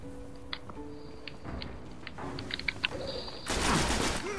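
Hand cannon gunfire in a Destiny PvP match on PS3, with sharp shots and clicks over game music, ending in a louder burst of noise.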